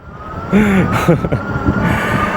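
A Hovsco H Beta folding fat-tire e-bike climbs a small hill on throttle only, its motor holding a steady electric whine under wind noise while a rider's voice exclaims briefly.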